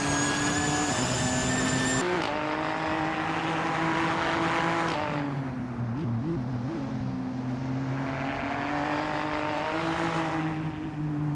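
Several race car engines roar and whine in a racing video game, tones rising and shifting as cars pass and overtake, a steady loud drone throughout with no talk.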